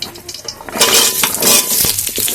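Cut potatoes tipped into hot spiced oil in a pan for Bengali pumpkin chokka: a sudden loud burst of sizzling, with clinks of the pan, after a quieter start, then a steady crackle.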